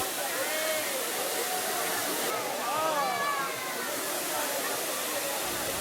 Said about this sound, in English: One of its lasting legacies remains as the magic fountains.